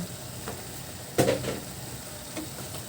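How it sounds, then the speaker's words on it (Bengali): Small-shrimp curry with coriander leaves stirred in a pan, a soft steady sizzle with one brief scrape of the spoon near the middle and a fainter one later, close up with no voices. "একটু নাড়াচাড়া করেই নামিয়ে নেব"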